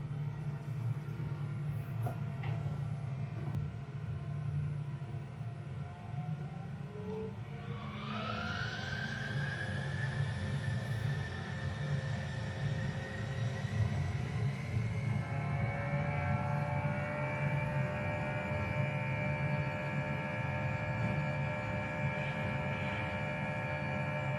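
Airbus A320 jet engines spooling up for takeoff from runway 03, a steady cabin rumble joined by a rising whine that climbs then holds as a sustained tone.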